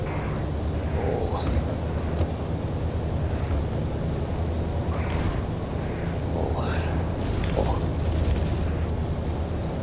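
A Black Shark attack helicopter in the Digital Combat Simulator game fires its weapons, producing a dense, steady roar of engine and rotor noise with sharp bursts and booms over it, and a voice talking faintly underneath.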